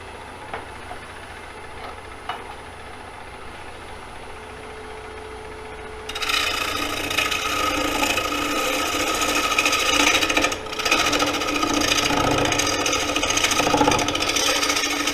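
An Ellsworth gouge on a lathe cuts a square wooden bowl, the tool starting midway with a loud, steady rasping chatter over a quieter motor hum.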